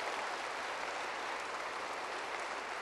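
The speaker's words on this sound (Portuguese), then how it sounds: "uma salva de palmas para Jesus." Audience applause fills a church healing service, a continuous dense wash of many hands clapping at steady volume throughout, with no voices standing out.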